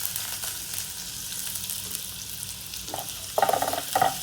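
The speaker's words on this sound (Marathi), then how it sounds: "बारीक चिरलेला कांदा टाकते" Finely chopped onion fries in hot oil for a dried-fish chutney, giving a steady, soft sizzle that swells into louder stirring and crackling bursts near the end.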